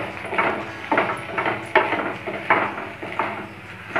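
Masala pasta being stirred in a pan with a utensil, a steady series of soft, close scraping and clinking strokes about every half second, with no voices.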